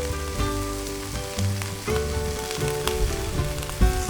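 Onions sizzle and caramelize undisturbed in a hot pan for axis deer fajitas, a steady close frying crackle with a few light knocks, no voices.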